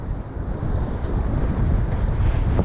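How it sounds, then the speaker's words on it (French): Small waves wash over the deck of a sailboat racing in the Calvados Cup in the English Channel, a steady broadband rush of water and gusting wind against the microphone, continuous and fairly loud with no voices. "Des petites vagues qui passent sur le pont de temps en temps"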